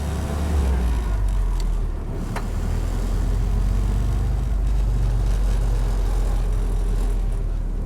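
A 1946 Willys jeep driving, its steady engine and road noise loud and continuous throughout, with the loose rear seat rattling faintly beneath the drone.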